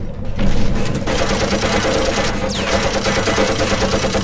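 Turret gunfire in the TimeShift video game: loud, rapid, sustained automatic bursts in a steady rattling rhythm, close and continuous with no talk.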